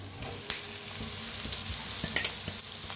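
Diced potatoes are stirred into a hot pan for a South Indian-style potato bhaji, giving a steady, close sizzle and frying hiss with occasional scrapes and clinks of a spoon against the pan.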